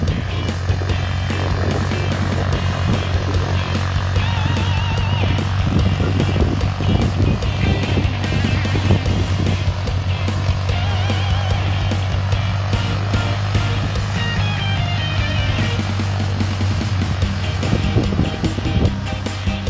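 A John Deere 5310 55-horsepower tractor engine drones loudly throughout with a deep constant hum and rattling mechanical noise, running continuously without pause.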